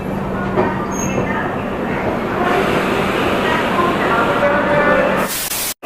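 Kerala Express rolling into Bina Junction station, a loud, steady rumble of wheels and carriages that holds for several seconds before cutting off sharply at the end.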